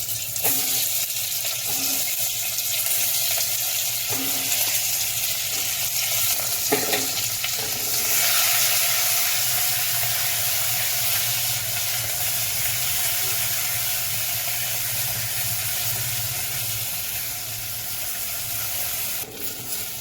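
Stuffed brinjals frying in hot oil with fenugreek seeds, giving a steady, dense sizzle that runs the whole length, with a few faint clinks and stirring sounds near the start.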